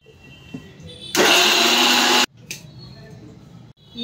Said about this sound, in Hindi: और पहले मसाला पीस लेती हूँ गाइस साथ के साथ